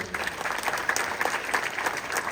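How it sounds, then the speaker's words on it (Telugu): Dense applause fills the hall at a Razole Constituency S.C. & B.C. welfare association event in Hyderabad, a brief, even burst of many hands clapping, close and sustained. "ఒక్కసారి చప్పట్లు కొట్టండి"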